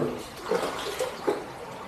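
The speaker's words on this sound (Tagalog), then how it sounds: "naririnig natin yung agos ng tubig sa ilalim" Water flowing underground, a steady rushing gurgle heard continuously at moderate loudness with slight surges, no voices over it.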